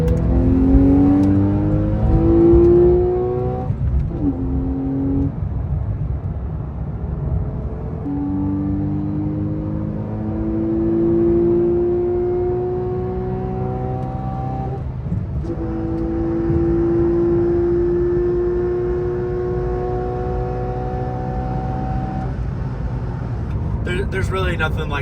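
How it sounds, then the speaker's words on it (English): Porsche flat-six engine in sport mode, its induction note rising in repeated smooth revving sweeps and settling between pulls, loud and close throughout, with a low steady drone beneath. "There's really nothing like the sound of a 911's flat six"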